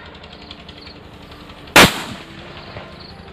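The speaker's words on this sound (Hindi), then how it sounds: "हमारे पास एक जो है बिल्कुल नए प्रकार का बुलेट बॉम्ब, इसको आग लगा के देखते हैं" A Diwali bullet bomb firecracker goes off in one sharp, loud blast, followed by a short ringing decay over a quiet outdoor background.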